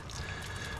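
Transmission fluid draining from the valve body of a 340 Duster into a catch pan, a short, steady trickling pour with light splashing, continuous and fairly close.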